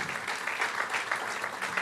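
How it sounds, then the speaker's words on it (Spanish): Steady applause from a church congregation during a Sunday morning service, a dense, continuous wash of many hands clapping together with a faint murmur of voices underneath. "Démosle un fuerte aplauso al Padre, al Hijo y al Espíritu Santo en esta mañana"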